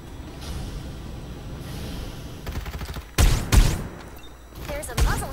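Gunfire in the video game Farlight 84, a few sharp loud shots in the second half after a quieter stretch of game ambience, with brief vocal sounds near the end.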